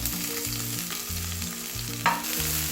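Thinly sliced onion sautéing in ghee in a heated pan for ghee rice, a steady close sizzle with a rhythmic low pulsing underneath and one sharp clink near the end.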